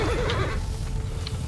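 A horse in the video game Mount and Blade II: Bannerlord lets out a short, wavering whinny at the start, followed by quieter game ambience.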